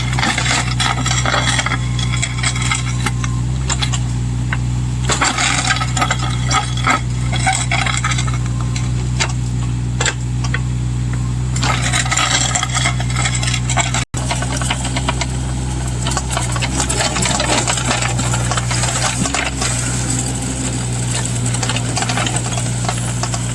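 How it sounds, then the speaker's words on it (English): A digging machine grinds steadily through rocky, hard ground while cutting a ditch, loud and continuous with metallic scraping and knocking over a constant engine drone, no talk. "it's even hard for the machine."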